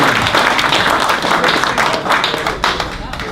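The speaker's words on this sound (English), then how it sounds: "Round of applause for everybody here." An audience at a Science on Tap evening gathering claps in a loud, dense burst, with a voice talking over part of it.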